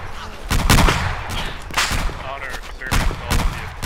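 Rapid bursts of gunfire crack in a tight cluster early on, then come back as scattered louder shots and volleys over a steady din of combat noise, close and harsh.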